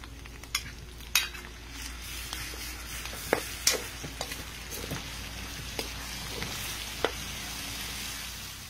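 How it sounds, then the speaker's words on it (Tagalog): Bicol Express with shrimp paste frying in a pan, stirred with a utensil that gives irregular sharp clinks and scrapes over a soft sizzle, nearby and alone. "Haluin lang natin."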